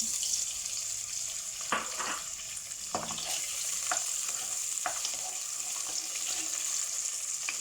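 Century egg sizzles faintly in a pan while cooking a salted egg and vegetable soup, a soft steady crackle with a few sharper clatters of stirring scattered through.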